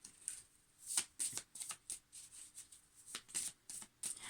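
Atlantis oracle cards being shuffled by hand, repeated soft riffling bursts of card edges slapping together, close and quiet, no voices.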